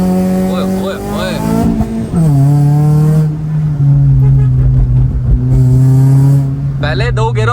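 A tuned Honda K24-engined car revving hard and accelerating through short gears, loud and close, engine pitch climbing and dropping with each shift; someone shouts over it.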